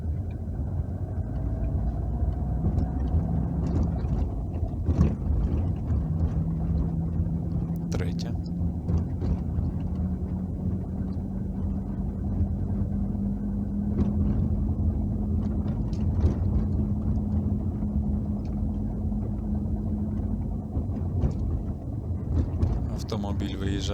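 A car pulling away in first gear and shifting into second on a pothole-strewn road during a driving exam route, with a steady engine rumble whose pitch rises and changes at the shift while a voice talks over it.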